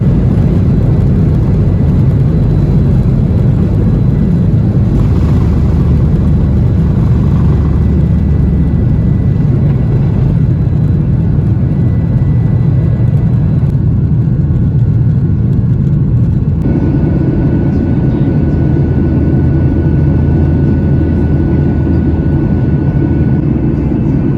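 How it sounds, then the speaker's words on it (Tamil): Loud, steady roar of jet engines from inside an airplane cabin during takeoff down the runway, a deep continuous rumble that shifts in tone partway through as the plane powers along. "So we are ready to take off. ரன்வேல போயிட்டுருக்கோம்."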